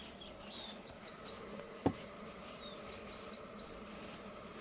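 A soft, steady insect buzz hums in the background around beehives, with faint passing drones of bees and one brief sharp knock midway.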